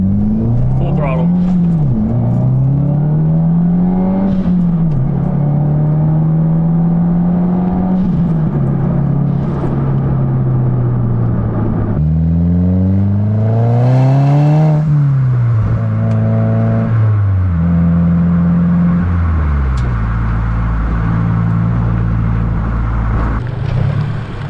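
A 2015+ (VB) Subaru WRX with a titanium single-exit exhaust at full throttle, loud and close, its engine note climbing and dropping through repeated gear changes under a man's speech.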